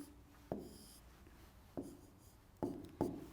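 Numbers handwritten during a Turkish math lesson on exponents, four short separate bursts of pen or marker scratching on a board or paper, close, with faint room noise and no talk.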